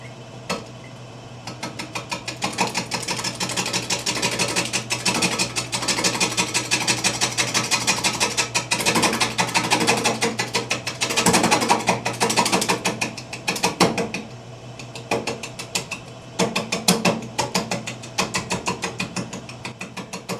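Carbide tool cutting a wet, spalted alder bowl on a wood lathe, a dense fast chattering scrape over a steady motor hum, close and continuous with short pauses, no talking.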